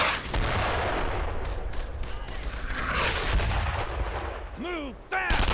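Mortar and gunfire in a World War II shooter game, Brothers in Arms, fighting German paratroopers: dense rumbling blasts and crackling shots run throughout, ending with a sharp whistling descent and an impact.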